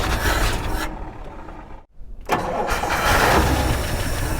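A 1954 Chrysler HEMI V8, first start after 40 years, cranks and roars to life, cuts out briefly, then fires again into a loud, steady rumbling idle close by.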